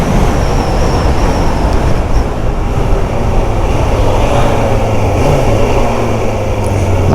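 Suzuki GSXF600 motorcycle engine running while riding, a loud continuous drone with heavy wind noise over the microphone and no clear revving.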